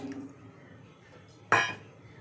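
Potatoes drop into a cooking pot of water with a single sharp clatter and splash, close and moderately loud after a quiet stretch, while preparing aloo matar.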